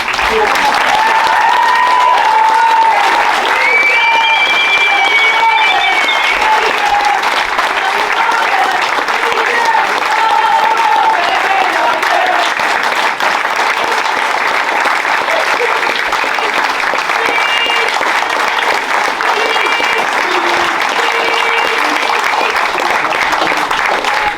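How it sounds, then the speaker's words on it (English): Loud, continuous applause fills the room at a ladies' football club presentation evening, a thick wall of clapping from a standing crowd, with cheering and voices mixed through it the whole way. "big round of applause"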